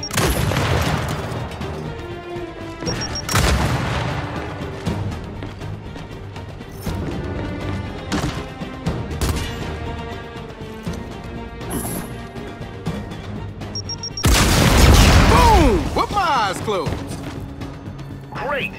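Frag grenade blasts in the Gears 5 campaign: several loud, sharp crashing booms, with the biggest burst near the end, set amid game music and effects while a voice talks over them.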